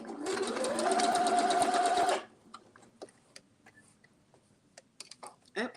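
Sewing machine stitching rapidly and close up for about two seconds, a dense buzzing rattle that stops abruptly, followed by quiet clicks and small handling noises.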